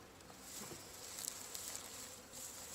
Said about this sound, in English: Oh man, these guys are mad. These are pissy bees.